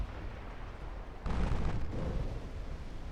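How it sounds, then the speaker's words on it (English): In the naval combat game Ultimate Admiral Dreadnoughts, a torpedo strikes a ship and sets off an explosion, a sudden rumbling burst that jumps up over low background noise and then lingers as a dull roar. "A torpedo hit on the New Zealand."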